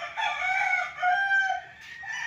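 A gamecock at a game farm crows in a sustained, wavering call, with a second crow starting near the end, moderately distant, with no voices.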